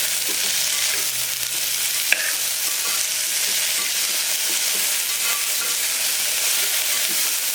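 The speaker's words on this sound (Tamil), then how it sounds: "வெங்காயம் நல்லா பொன்னிறமாக வதங்கிடுச்சு." Onions fry and sizzle in a pan for mutton kozhambu, a loud, continuous hiss with occasional stirring scrapes and one sharp clink, close and without talk.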